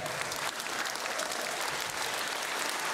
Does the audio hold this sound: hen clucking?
no